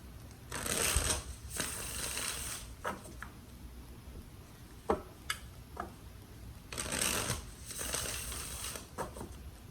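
Tarot cards are shuffled in two bursts of riffling, each a dense papery rattle lasting a couple of seconds, with scattered taps and clicks in between and no voices.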